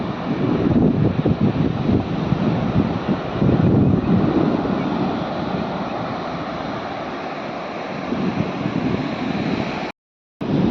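Steady roar of sea waves washing onto the shore at Dahanu, broadband and continuous, with brief swells and a short dropout near the end; no voices.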